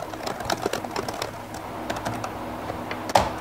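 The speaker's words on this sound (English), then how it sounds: "I'll do a quick typing test." Typing on the keyboard of a Dell Latitude D531 laptop, a fast irregular patter of close, soft clicky keystrokes with one louder key strike near the end, no voices.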